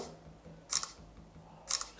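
Phone camera shutter, One UI 5.1 or 6.0 on a Samsung phone, clicking twice about a second apart, each a short crisp snap standing alone against quiet background.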